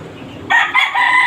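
A rooster crows once, loud and near, a short strained call rising abruptly after a moment of quiet background noise.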